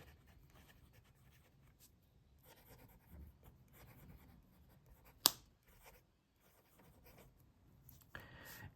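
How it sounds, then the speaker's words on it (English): A Platypus Model 2 fountain pen scratches faintly across paper in soft, intermittent strokes, close and quiet, with a single sharp tap partway through. "Let's do some writing."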